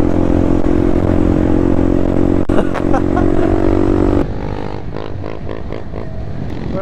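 Honda Grom motorcycle out on a ride, its engine droning loud and close with a steady tone, then dropping lower partway through alongside some clattering and wind rush.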